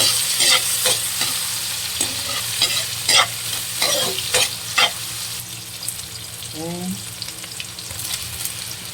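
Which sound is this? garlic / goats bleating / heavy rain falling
garlic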